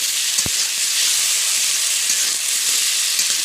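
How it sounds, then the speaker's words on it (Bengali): A paste of dry chili, cumin and coriander is sautéed in hot oil in a pan, giving a steady close hiss and sizzle throughout with one brief low thump near the start. "আমি মশলাটা একটু কষিয়ে নেব।"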